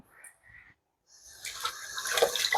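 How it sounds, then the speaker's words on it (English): Tap water runs in a steady broadband rush as hands are rinsed after handling buttery cinnamon twist dough, starting soft and growing louder over the last second and a half, close and alone. "I'm going to rinse my hands off because this dough has a lot of butter in it"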